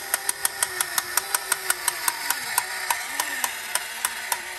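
A vintage Linemar Superman toy tank's wind-up or motor mechanism runs continuously with an even, rapid clicking rhythm over a steady whirring hum, close and moderately loud.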